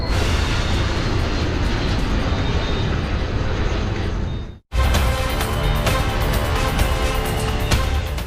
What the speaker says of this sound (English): An Airbus A300 takes off from JFK Airport to Santo Domingo in the Dominican Republic.